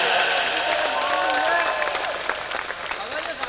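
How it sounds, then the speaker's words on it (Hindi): A large gathering claps loudly for a woman who donated seven tolas of gold for a cow donation. Thick, continuous applause is mixed with crowd voices and fades slightly toward the end. "एक बार उस बहन के लिए ताली बजाया"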